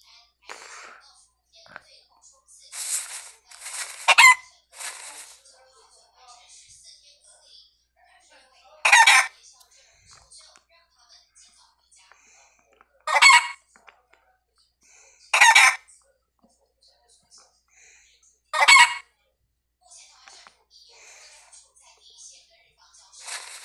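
Chickens on a farm, with roosters crowing in several loud separate calls spaced through a quiet stretch and softer clucking and scattered farmyard noise between them.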